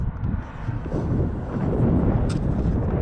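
Strong wind in the scorching Sudanese desert buffets the microphone in a heavy, continuous low roar that surges and gusts throughout, with no voices.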